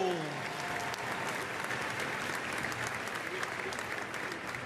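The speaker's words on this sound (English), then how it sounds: "Redoublez vos applaudissements pour tout l'équipage de Benjamin Aillaud" Sustained, dense applause from a large arena crowd at the FEI Driving World Cup in Lyon, greeting a four-horse driving team, with a faint announcer voice at the start.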